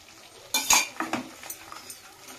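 A metal spoon clanks and scrapes against a pan while a wet masala paste is stirred, making a few sharp knocks followed by lighter irregular taps, close by and fairly quiet.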